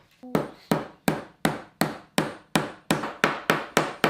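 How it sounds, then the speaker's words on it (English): Hammer striking nails into wood while building a log dog: about eleven sharp, evenly spaced blows in a steady rhythm, each ringing briefly before the next, close and loud with no talk. "Hold the hammer a bit further down the handle"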